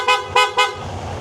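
Three short, sharp horn beeps in quick succession from a KYMCO AK550 Premium motorcycle with a PIAA horn, close and loud, followed by a quiet engine hum.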